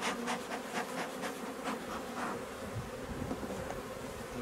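Honey bees swarm densely around an open hive during a summer honey harvest, a steady close buzz with overlapping wingbeats and brief louder passes near the listener, no voices.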